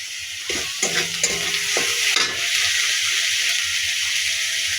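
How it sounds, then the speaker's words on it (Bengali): Onion and garlic fry in a pan, a dense sizzle with a cluster of spatula scrapes and taps early on, then steady frying with no talking. "এখন এখানে পেঁয়াজ আর একটু রসুন আমি ভেজে নেবো ভালো করে।"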